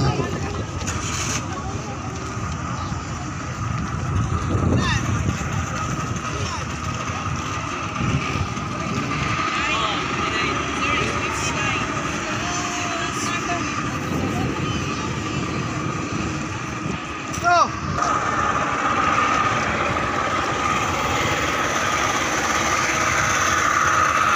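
A boat engine drones steadily throughout, loud and continuous, with a brief clatter partway through and faint voices mixed in.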